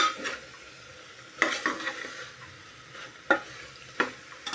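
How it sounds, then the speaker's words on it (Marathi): Kaju bean curry ingredients being stirred in a hot pan, a faint low sizzle punctuated by a few distinct spoon knocks and scrapes on metal, close up with no speech. "हे सर्व साहित्य छान परतून घ्या"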